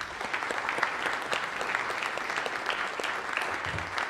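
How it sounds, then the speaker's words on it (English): A meeting audience at the ARIN 34 members meeting breaks into steady, sustained applause, a dense wash of many hands clapping at a moderate distance with no talk over it. "I'd like a round of applause for these people."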